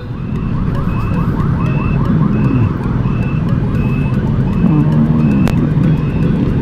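Ambulance siren wailing in repeated rising-falling cycles over steady highway traffic rumble, loud and continuous, with no voices.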